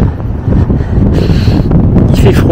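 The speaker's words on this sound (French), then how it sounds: "un vent établi à 30 km/h. 30-40 peut-être, pas plus." Strong steady wind in the Pyrenees mountains, loud buffeting roar and gusts hitting the microphone, close and continuous throughout.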